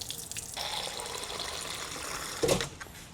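Water from a deionized-water car wash hose rushes out in a steady spray, flushing for a few seconds with a brief louder splash near the end, close by and with no voices.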